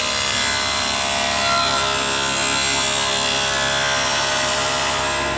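Table saw blade cutting through wood, a loud sustained whine with a dense rasping texture, steady and close for several seconds without speech.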